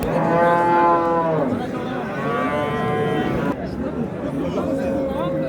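Cattle moo loudly and at length amid the steady hubbub of a crowded livestock market in Spitamen, Tajikistan, with people chattering all around.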